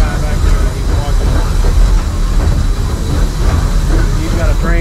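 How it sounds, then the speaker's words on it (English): Western Maryland Scenic Railroad locomotive 1309 runs steadily during a cab ride. A loud, dense rumble is layered with hiss and mechanical clatter, constant throughout. "You've got a train that's a mile long."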